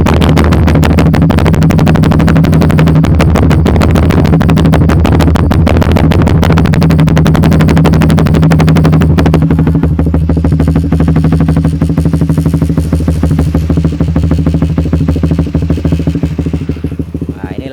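A ported Suzuki Satria FU motorcycle engine idles loud and close, a steady thrumming chug with mechanical clatter that holds throughout, softening slightly toward the end.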